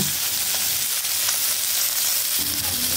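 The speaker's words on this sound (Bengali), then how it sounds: "মাছগুলোকে ভেজে নেব।" Steady, dense sizzling of fish frying in hot oil in a pan, continuous and close, with a few faint clinks and stirring scrapes.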